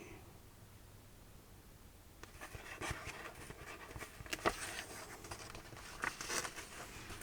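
A dog pants softly in rapid, rhythmic breaths that begin partway through, faint and close, mixed with light rustling and page sounds in a quiet room.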